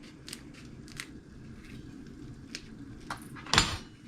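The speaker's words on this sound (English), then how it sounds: "The easiest way is going to be to open it up with a pair of scissors." Scissors snip open dried ancho chilies in a kitchen, giving several short crisp cuts spread across the moment, the last one loudest, over a low steady background hum.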